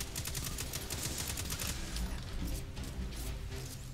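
Rapid sustained gunfire in the Destiny 2 beta prologue, a dense stream of loud close shots running without a break throughout.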